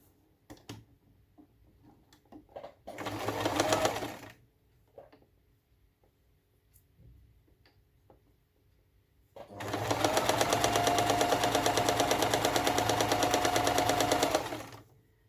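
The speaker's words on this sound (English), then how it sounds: "Got a good sewing machine." A sewing machine stitches fabric for a Japanese rice bag in two bursts, a short run then a longer steady whirring run of several seconds, with quiet handling noises between.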